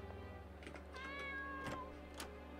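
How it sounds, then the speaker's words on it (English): A cat meowing in the RPG Maker horror game Aria's Story, a short clear mew rising over a steady low game background hum, heard alone without talk. "Don't you purr at me."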